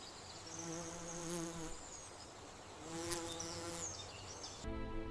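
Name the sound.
periodical cicadas chorus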